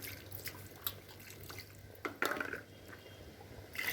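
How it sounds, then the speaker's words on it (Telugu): Water is poured into a mutton curry masala, a quiet liquid splash and trickle with a short, louder gush midway among faint drips, close by and with no talk. "మీకు తగినన్ని వాటర్ పోసుకోండి మసాలాలోకి"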